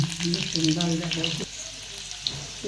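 Garlic sizzles in hot oil in a home kitchen while a dal is made, a steady close frying hiss with a clattering stir at the start and a brief voice over it.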